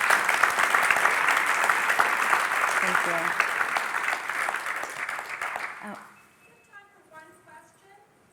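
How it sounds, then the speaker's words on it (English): Audience applause for two panelists at a community clean-energy panel discussion, a dense sustained clapping wash that fades out around six seconds, with a speaker's brief thanks over it and quiet talk afterward. "let's give them a round of applause"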